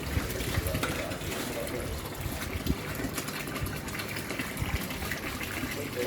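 Water gushes steadily into a tank from a public water connection, a continuous rushing flow heard close up with faint voices talking underneath.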